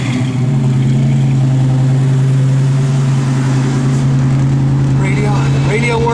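A 1965 Ford Mustang Fastback with a lumpy cam idles and revs, a loud steady low engine drone with a choppy loping pulse, close up, with a voice briefly heard near the end.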